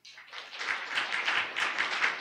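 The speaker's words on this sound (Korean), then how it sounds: "큰 박수 주시죠" Audience applause at an award ceremony, a crowd clapping steadily after a brief rise, moderately close and sustained throughout.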